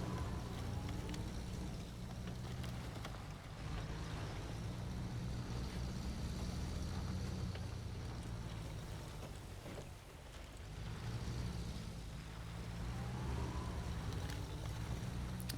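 Truck engine droning steadily in the video game SnowRunner, a continuous low rumble with a slight dip partway through before building again, no voices present.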